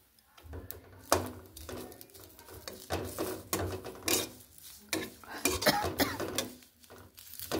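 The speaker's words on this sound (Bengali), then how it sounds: "শুকনো খোলাতে পাতাটা একটু সেঁকে নেবো, যা বলা যায় যেরকমভাবে একটু নেড়ে নেবো।" Taro leaves being stirred and toasted in a dry pan, with repeated scraping and clinking of a utensil against the pan in an uneven rhythm, close and fairly quiet.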